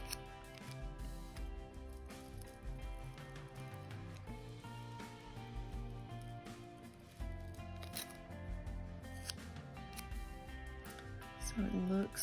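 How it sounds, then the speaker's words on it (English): Scissors snip around a paper printable in short, crisp cuts close by, while a person talks over the cutting. "So I'm going to take the next larger set here and just cut this out."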